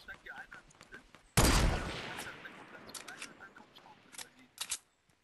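A single loud sniper rifle shot in a video game, a sharp crack with a decaying tail, followed by faint scattered clicks and small impacts.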